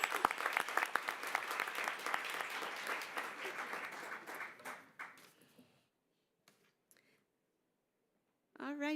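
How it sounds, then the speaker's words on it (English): An audience at a school board of education meeting applauds loudly, the clapping fading out after about five seconds into near silence, followed by a few faint sounds and a voice starting to speak at the end. "will you give me a big round of applause for one of our future soldiers, Julian Franco."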